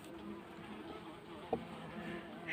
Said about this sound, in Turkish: Bombuslar çok fazla bugün. İnanılmaz bombus var.